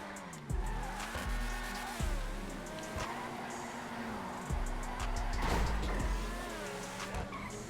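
A rear-wheel-drive Principe Deveste Eight supercar in GTA Online roars steadily, its engine pitch rising and dropping through gear changes while tires squeal and skid through turns, loud and close throughout.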